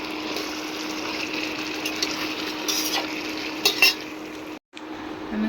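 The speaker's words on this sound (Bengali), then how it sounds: "ভালো করে কষাবো। মাছ কষে না কষালে বেনি গন্ধ করে।" Fish being sautéed and stirred in a frying pan, a steady close sizzle with occasional scraping of the stirring utensil, one brief pause near the end before the frying resumes.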